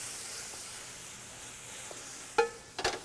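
Risotto simmering in a pan gives a faint, steady bubbling hiss throughout, with a few soft utensil clinks near the end.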